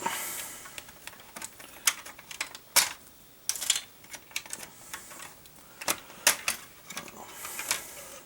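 Plastic parts of a 1/35 Unicorn Banshee model kit being popped off, a string of faint, sharp clicks and snaps at irregular intervals over quiet background, no voices.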